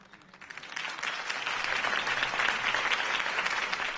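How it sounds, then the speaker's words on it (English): A video game crowd breaks into applause, building quickly from scattered claps into steady, dense clapping that holds strong to the end. "could have heard that applause"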